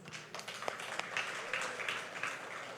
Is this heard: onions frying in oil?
no